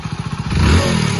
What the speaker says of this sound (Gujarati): લેવડા તો બાઇક તો ચાલુ કરો